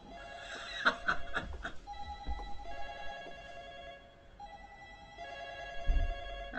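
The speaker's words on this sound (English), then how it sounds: "Right, answer the phone." Telephone ringing inside a horror video game, a repeated electronic bell ring heard clearly amid game ambience and footsteps.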